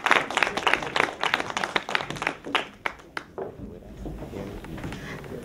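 Scattered audience clapping at an expo contestant event, a burst of hand claps that thins out and fades after a few seconds, with faint room noise.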